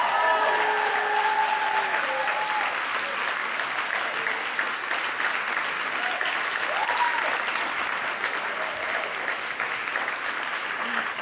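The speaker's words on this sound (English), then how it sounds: "I think that deserves another round of applause" An audience at the 2023 Visionary Leadership Award ceremony honoring Leah Penniman bursts into loud, sustained applause that fills the hall steadily for the whole stretch, with a few faint voices mixed in at the start.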